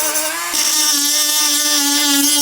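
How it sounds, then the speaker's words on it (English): A grinder cuts plastic tabs off an RC car ESC, a loud, steady high-pitched whine that dips briefly as the disc bites, then holds under load for about two seconds. "I'm just going to get a grinder and get rid of these little tabs"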